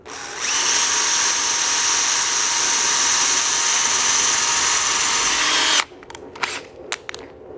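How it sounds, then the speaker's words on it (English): An electric drill whines steadily and loudly for several seconds while boring a small pilot hole into scrap wood, then stops, followed by brief clatter and handling noises. "So we'll reuse that scrap to drill the hole for this plexiglass. And I'll start with a small pilot hole."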